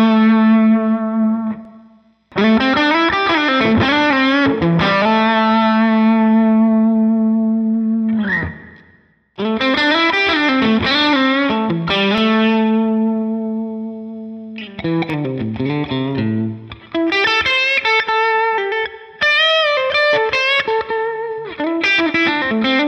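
Distorted electric guitar played through an amp with an input pad sending less signal into the amp's front, sustained chords and bending notes in three phrases separated by brief pauses, loud and close with no voices.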